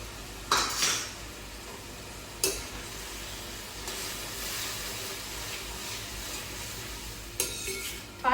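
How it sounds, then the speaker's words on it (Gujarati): Gravy sizzles and cooks in a pan on a high gas flame, a steady close frying hiss with several sharp clinks of a utensil against the pot. "ફાસ્ટ ગેસ પર જ ખાલી આનું જે તેલ છૂટું પડે, ગ્રેવી પાકે એટલે એટલું ખાલી થવા દેવાનું છે આપણે."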